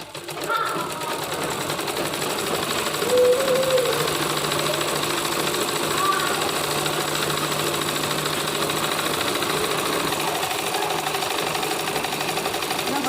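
A sewing machine runs steadily throughout, a continuous mechanical whir and rattle close by, with a few faint voice-like tones early on.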